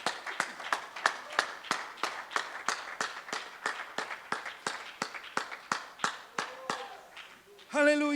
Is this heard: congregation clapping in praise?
yes